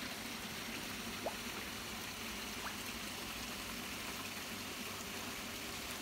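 Steady, faint rushing trickle of a garden waterfall spilling into a large koi pond in a landscaped garden, continuous and unchanging for six seconds with a soft low hum underneath and no voices.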